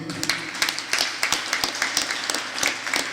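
Audience applause at a school closing ceremony, a brisk patter of many hands clapping steadily at moderate volume with a faint murmur of voices beneath.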